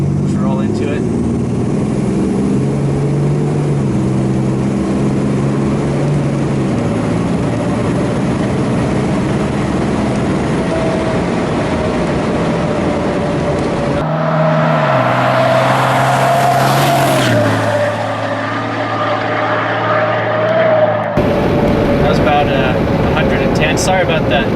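Heavy diesel drone from a 700 hp twin-turbo 6.7 Cummins truck accelerating in fourth and fifth gear with the torque converter locked, heard from the cab as a loud steady rumble that climbs in pitch, with a gear change and talk throughout.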